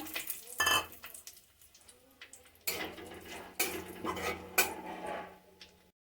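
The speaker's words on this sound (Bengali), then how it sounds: "ওই তেলেই আমি দিয়ে দিলাম একটু কালো জিরা ফোড়নে। দিয়ে দিলাম শুকনো লঙ্কা, তেজপাতা।" Nigella seeds, dried red chilli and bay leaf tempering in hot oil, giving a faint crackle with several sharp clinks of a utensil against the pan.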